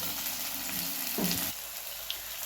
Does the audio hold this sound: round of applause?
no